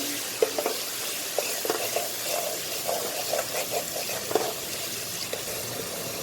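Masala and onion frying in a pan for mash daal, a steady soft sizzle broken by scraping stirs and small clacks of the spoon, with no talking.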